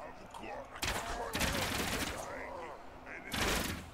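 Rapid gunfire in Ultimate Epic Battle Simulator, a bullet-versus-arrows battle: bursts of fast, loud shots in quick succession with short gaps, someone talking faintly beneath the shooting.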